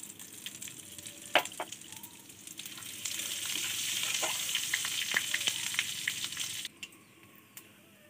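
Panch phoron spices hit hot oil, starting with a few light taps and then a loud, crackling sizzle that swells for several seconds and cuts off abruptly, leaving a few faint clicks. No one speaks.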